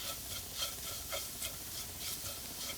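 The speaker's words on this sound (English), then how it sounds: "Now we are going to put the beef into this one." Beef stirred into spiced onions frying in a pan for kappa biryani: a steady close sizzle with soft scraping stirs recurring roughly every half second, no voices.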